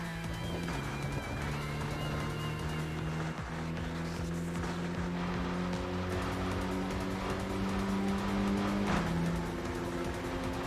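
A Suzuki Swift Sport in the racing game Tokyo Xtreme Racer, its steady engine drone holding a sustained tone that shifts pitch gradually as it drives, continuous and close with no talk.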